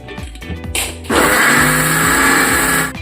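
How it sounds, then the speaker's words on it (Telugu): A mixer grinder whirs loudly while grinding punugulu batter, its motor pulsing at first then settling into a steady, continuous grinding roar for most of the clip. "కొంచెం పోసుకుని మిక్సీ వేసుకుందాము."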